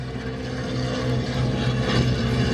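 A Junkers Ju 52 trimotor flies past at an air show, its piston engines producing a steady, droning propeller roar that swells slightly as the plane draws nearer, with no talk over it.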